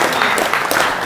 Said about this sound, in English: We're gonna give you a round of applause.